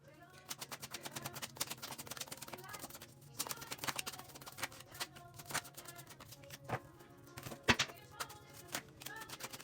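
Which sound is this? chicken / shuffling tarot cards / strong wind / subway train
shuffling tarot cards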